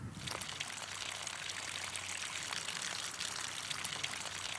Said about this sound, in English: So the bottle's nearly full, and cap that.